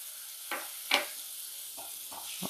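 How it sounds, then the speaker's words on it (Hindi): Tomato paste with peas cooking in a pan gives a soft, low sizzle, broken by several short scraping strokes of a spoon stirring the mixture at an irregular pace. "और टमाटर और मटर को लगातार चलाते हुए अच्छी तरह से पका लेते हैं"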